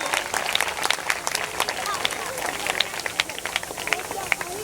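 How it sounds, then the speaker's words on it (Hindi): Crowd applause at a village school annual function, a dense steady patter of many hands clapping at moderate loudness throughout, with scattered crowd noise. "सभी के लिए एक बार और जोरदार ताली हो जाए"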